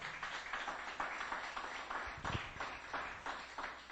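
A church congregation claps together in sustained, even applause, moderately distant and soft, with a steady rhythm of many hands filling the room.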